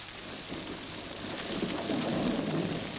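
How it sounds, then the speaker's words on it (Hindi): Steady rain falls with a soft, even hiss that swells slightly toward the end, with faint low rumbles beneath and no voices. "बारिश हो रही है"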